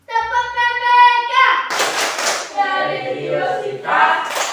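A class of children chants together and claps a patterned rhythm in a classroom. Their voices are loud and close, with short bursts of group claps landing between the chanted phrases.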